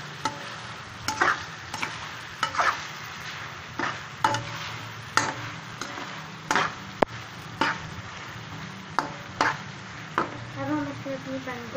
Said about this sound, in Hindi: अब इसको हम थोड़ा सा भून लेंगे।